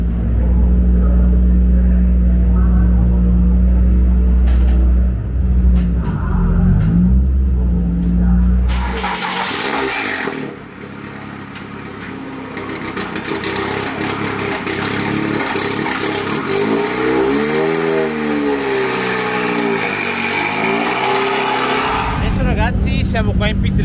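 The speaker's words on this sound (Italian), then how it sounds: "tempo di accendere la macchina, prepararsi ovviamente all'entrata in pista e si va con le prime prove" A TCR touring car in a sim racing game at Imola cranks and fires up, settling into a loud, steady engine drone with rising and falling revs, while voices talk over it throughout.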